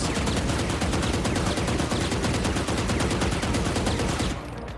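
A Vandal rifle fires full auto in Valorant, a loud, unbroken stream of evenly spaced shots that runs for several seconds before stopping abruptly.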